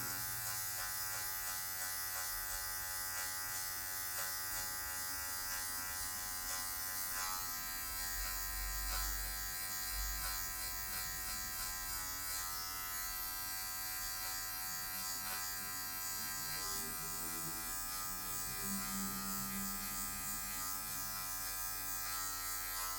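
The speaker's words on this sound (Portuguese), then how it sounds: "um baixa, só a pontinha da máquina tirando algumas regiões mais escuras" An electric hair clipper trims a fade with its corner edge, a steady close mechanical buzz with a dense harmonic whine that holds throughout, no talking.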